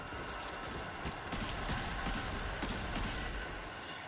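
Horse hooves clip-clopping in a video game, a dense run of rapid hoofbeats over a steady noisy bed, moderately loud with no talk.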